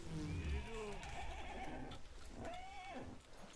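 A horse whinnies loudly with a rising, wavering call, followed by a second shorter neigh, over faint game-like background sounds in the video game Battlefield 1.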